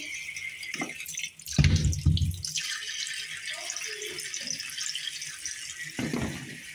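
A milk pot used for making tea is rinsed under a running kitchen tap, with steady water flow, a few louder splashes and clatters early on, then continuous trickling and dripping.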